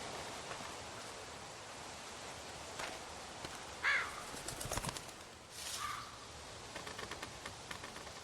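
A bird in The Walking Dead video game gives a few short, distant caws amid steady outdoor ambience, with faint wing-like flutters and no speech.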